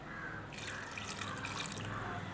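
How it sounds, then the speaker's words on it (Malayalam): Water is poured onto chopped loobikka fruit with green chillies in a bowl: a steady, close pouring splash that starts after a brief quiet moment and continues to the end, with no talk. "ഇനി വേഗാൻ ആവശ്യത്തിനുള്ള വെള്ളം ഒഴിച്ചു കൊടുക്കുക"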